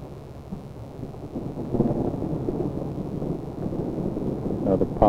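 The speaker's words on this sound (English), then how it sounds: "Another pop of thunder" A low rumble of thunder rolls through a 1960s golf match at the Toronto Golf Club, a muffled, distant swell lasting several seconds beneath faint background chatter.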